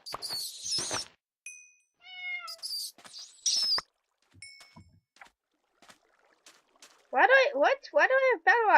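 Cat meowing in a modded survival video game, a run of several close, rising-and-falling meows near the end, after scattered chimes and game clatter with some talk earlier.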